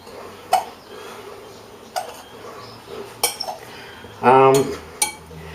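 Chicken pie filling with pepper stirred in a bowl, a spoon scraping and clinking against the sides in sparse separate knocks, plus a brief scraping rattle, close and without talk.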